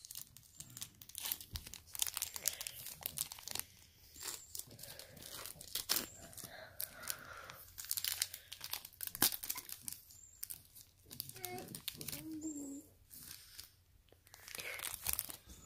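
A Pokemon Sword and Shield card pack wrapper torn open and crinkled close by, with repeated rips and crackling foil over about fifteen seconds, broken by soft voices.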